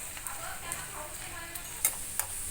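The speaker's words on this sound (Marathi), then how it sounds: "याचा असा फ्राय करून घ्यायचं जास्त तेलामध्ये टाकून" Potatoes frying in plenty of oil for kanda poha, a steady faint sizzle with a few soft ticks and stirring knocks, close by with no clear talking.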